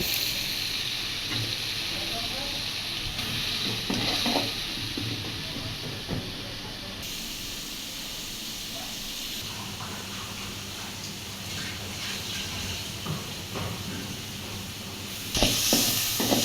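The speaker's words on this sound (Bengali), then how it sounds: "পেঁয়াজ কুচি দিয়ে দিচ্ছে" Chopped onion sizzling in hot oil while pumpkin is being fried for a village meal, a steady broadband hiss running throughout with occasional crackles and stirring sounds, fairly close and continuous.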